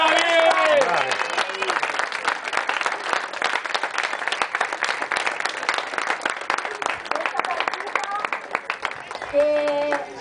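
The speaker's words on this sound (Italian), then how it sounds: "vi chiederei un grandissimo applauso per..." A crowd at a youth football award ceremony applauds the finalist teams, with sustained dense clapping for several seconds and a voice speaking at the start and end.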